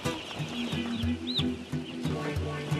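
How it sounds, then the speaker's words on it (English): Several thousand day-old chicks, just delivered by truck to a New Zealand farm, give scattered faint peeps over a steady low mechanical hum. "Several thousand day-old chicks."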